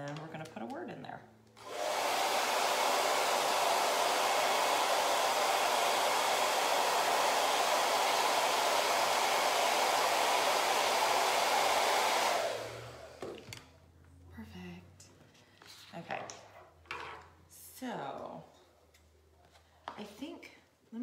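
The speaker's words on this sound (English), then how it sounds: "let me dry that off" A hair dryer blows over chalk paint on a wooden gift tag, a loud steady whoosh running about ten seconds before cutting off, then a person talks over quieter handling noises.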